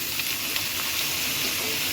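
Steady, dense sizzling of papaya and vegetables frying in a pan, a continuous close hiss with faint stirring clicks and no talking.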